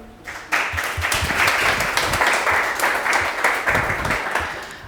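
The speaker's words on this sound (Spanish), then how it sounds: "nos disponemos para recibir a Lele y le damos un aplauso, por favor" A seated audience at a talk bursts into sustained, dense applause that starts abruptly and holds steady and loud throughout, with no voices over it.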